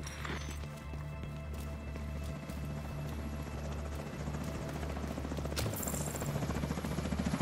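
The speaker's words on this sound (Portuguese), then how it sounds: "Helicóptero inimigo chegando." An enemy helicopter approaches in The Division 2 on Xbox One, giving a steady low rotor thump under a busy game soundscape that grows slightly louder toward the end.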